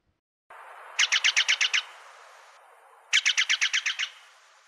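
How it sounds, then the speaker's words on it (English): A Steller's Jay gives two loud, close series of harsh, rapid calls, each about seven evenly spaced notes, with a short gap between them and a steady hiss of background noise throughout. "A bird of the West, the Steller's Jay ranges over most of BC"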